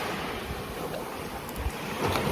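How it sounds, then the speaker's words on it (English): Ocean waves wash onto a sandy shore in a steady, soft rush of surf with some wind noise, fairly faint and continuous. "the sound of nature, the sound of the waves, the current flowing"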